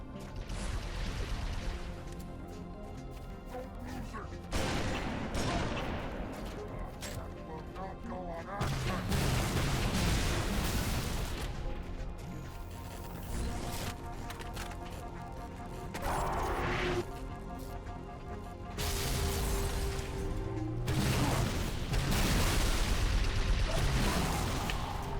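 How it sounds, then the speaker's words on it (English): Repeated heavy fuel rod cannon blasts and crashing impacts in Halo 3 combat on Tsavo Highway, loud bursts recurring every few seconds over a dense battle din. "you can use the fuel rod cannon and blast away at him"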